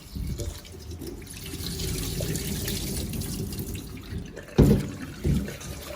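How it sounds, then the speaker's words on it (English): Steady running water from a tap splashes continuously, with a couple of louder sloshing bursts near the end as potatoes are rinsed. "we just wash and wash until the water will become clear"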